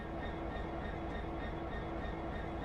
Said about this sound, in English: It's still weird to hear an American locomotive sitting here on an English railway.